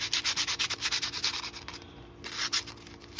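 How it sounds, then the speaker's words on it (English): Brass being scuffed by hand with 60 grit sandpaper, a close, rhythmic rasping of quick back-and-forth strokes that pauses briefly and then resumes with a few more rubs. "So I'm just using some 60 grit sandpaper here, and just kind of scuffing it up"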